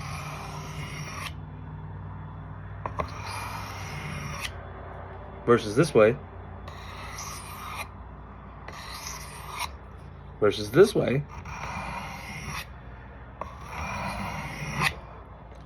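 Slow, rasping strokes of a blade drawn across a sharpening steel, two short bursts of quick scrapes standing out from steady rubbing, with someone talking throughout.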